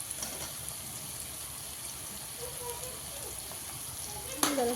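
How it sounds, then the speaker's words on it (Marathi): Pav bhaji vegetables with green chili frying in a pan give a faint steady sizzle with light stirring, ending in a sharp clatter of the utensil, close by. "ढवी मिरची टाकून घेतलेल्या आता हलवून घेऊया"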